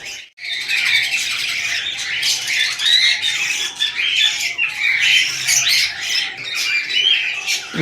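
Budgerigar chicks squawk and chirp continuously and loudly at close range while an adult feeds them, a dense overlapping chorus of harsh begging calls with no speech.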